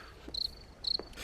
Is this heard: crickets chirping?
yes